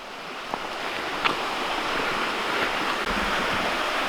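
Overflowing creek in Cataloochee Valley rushes as a steady broadband wash of flowing water, continuous and fairly loud, with light wind noise and a few faint clicks.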